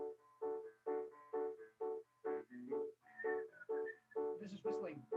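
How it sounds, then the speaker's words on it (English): A person whistles a short tune of about a dozen distinct notes in a steady rhythm, close and clear, with a breathy, voice-like tone and no talking. "This is whistling."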